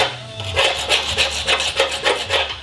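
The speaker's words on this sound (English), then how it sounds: "Just scraping off any loose rust, loose paint, anything like that." A small steel Craftsman hand scraper rasps loose rust and paint off a Ford F250 truck frame, giving about eight close, rhythmic scraping strokes at a brisk even pace.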